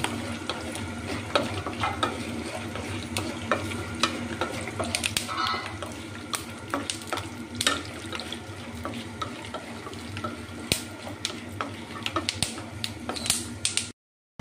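Peanuts and spices fry in hot oil while being stirred, a continuous crackling sizzle punctuated by frequent scraping and clinking of the spoon against the pan, close and steady with no voices.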